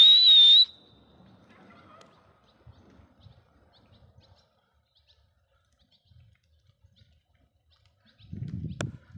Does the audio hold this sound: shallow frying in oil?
no